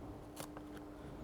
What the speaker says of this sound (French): on va utiliser une lingette non pelucheuse qu'on va venir découper